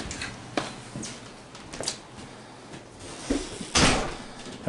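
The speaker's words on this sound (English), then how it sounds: "I just open the closet door." A closet door opened indoors on a freezing day, with a few soft knocks and a louder thud-like clatter near the end, close by and with no talking.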